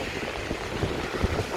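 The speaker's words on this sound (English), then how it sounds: "Hopefully you can hear me because it's very windy." Strong wind buffets the microphone on a downtown Chicago street in the rain, a loud, continuous low rumble with uneven gusty thumps.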